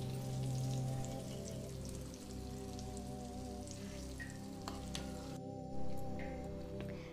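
Hot tempering oil poured over chili powder in a steel pan crackles and sizzles steadily, a dense, close spatter that eases off over several seconds while preparing brinjal pickle.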